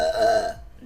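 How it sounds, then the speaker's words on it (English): A single short, voiced burp from a woman, close and clear, fading out quickly into silence. "Why am I burping so much?"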